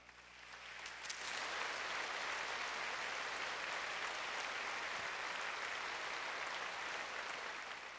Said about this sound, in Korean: 우리 김바울 선교사님 나오실 때 크게 박수로 환영해 주시기 바랍니다.